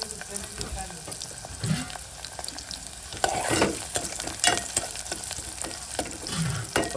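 Onions fry in a pan for an egg tomato curry, giving a continuous close sizzle broken by repeated stirring scrapes and clacks of a utensil against the pan.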